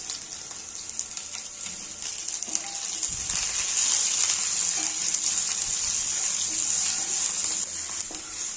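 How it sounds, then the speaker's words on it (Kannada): Ginger, garlic and onion frying in a pan, giving a steady, close hiss of oil and sizzle with faint utensil knocks, no talk. "ಇದೆಲ್ಲದನ್ನು ಚೆನ್ನಾಗಿ ಫ್ರೈ ಮಾಡ್ತೀನಿ"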